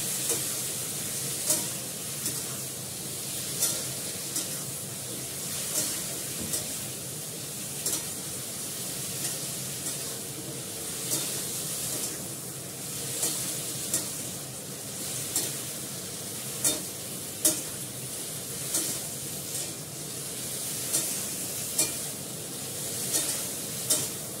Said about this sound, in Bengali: এটাকে ভালো করে নেড়ে কষিয়ে নেবো। তারপর দেবো একটু কাশ্মীরি লঙ্কার গুঁড়ো।